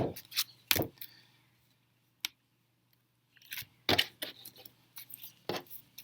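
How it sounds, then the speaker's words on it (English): Tarot cards are shuffled in short crisp bursts of riffling and flicking, close up, separated by pauses of near silence. "this is why I usually don't like to shuffle too much on camera"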